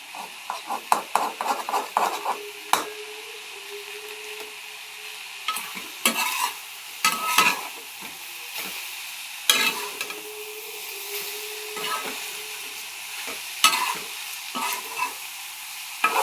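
An egg fries and gets stirred into radish poriyal in a pan. A steady sizzle runs throughout, and repeated stirring scrapes and taps against the pan come in bursts, close and fairly quiet, with no talking.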